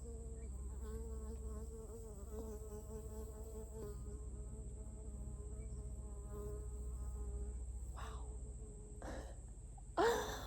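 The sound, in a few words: native bee buzzing in a garden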